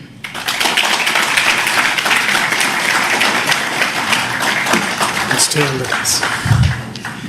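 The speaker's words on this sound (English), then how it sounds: "Request all of you to give him a warm round of applause for this momentous announcement" An audience applauds at a live public event announcing an agreement with Google in Andhra Pradesh: loud, dense, sustained clapping that fills the space, with a few thumps and a voice breaking in near the end.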